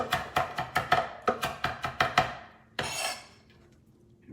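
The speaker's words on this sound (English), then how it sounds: "I wanna chop this super fine." A knife chops herbs finely for chimichurri on a cutting board with about a dozen quick, even, close knocks, then a pause, a brief scraping sweep and silence.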